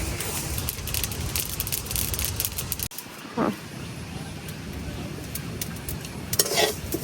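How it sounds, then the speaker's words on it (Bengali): Flaxseed roasts dry in a pot while being stirred, giving a dense, continuous crackle and rustle of popping seeds, with scraping stirs and a brief pause partway through. "সেই যে পুরটাতে একটা মুড়ি বাজার মতো শব্দ করে"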